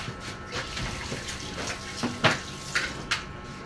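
Water runs from a kitchen tap into a pot, a steady rushing wash with a few clinks and splashes, moderately loud with no talking.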